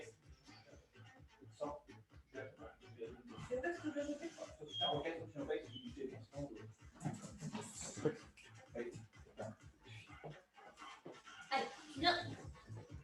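Two dogs panting and whimpering indoors while being readied to leave the room, with steady close breathing and small whines running under ongoing talk for most of the stretch.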